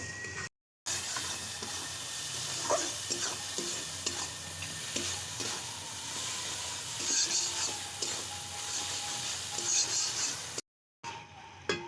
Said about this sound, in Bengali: সামনে একটু জল দিয়ে ভালো করে কষিয়ে নেব